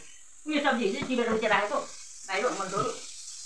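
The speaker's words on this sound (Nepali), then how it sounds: "खाना पकाउँदै रहेछ आमाले।" Vegetables cooking in a pan in a home kitchen, a steady soft sizzle running underneath while a voice talks over it in two bursts.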